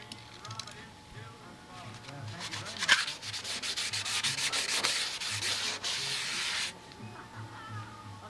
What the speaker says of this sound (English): And even after you sand it, go along that edge.